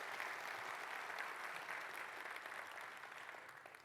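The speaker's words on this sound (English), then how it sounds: "can we just get one more round of applause for Rob?" Conference audience applause heard from a distance, a soft, even wash of many hands clapping in an auditorium, continuous and gradually easing off.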